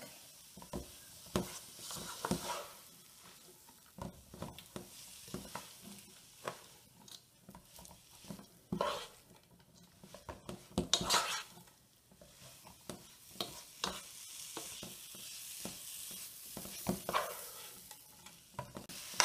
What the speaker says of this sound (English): I'm just going to stir this and incorporate all of our onion and garlic